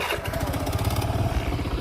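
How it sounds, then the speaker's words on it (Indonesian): Motorcycle engine running steadily and close by, a continuous low throbbing hum on a ride toward a hillside village viewpoint, heard alone without talk. "Kita naik motor"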